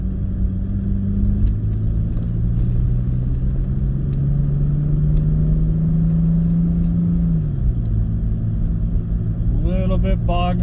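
An engine towing a camper uphill in second gear labours steadily, a low droning hum whose pitch rises slowly and then drops near the end, with faint road noise throughout and a voice breaking in at the close.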